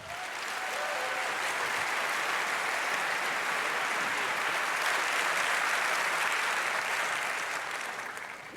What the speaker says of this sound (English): Give him a very warm applause.